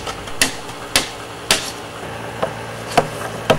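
Sharp wooden knocks as pins are driven into drilled holes in a bamboo shelter frame in Indonesia, six distinct strikes at an uneven pace about half a second to a second apart, close and clear.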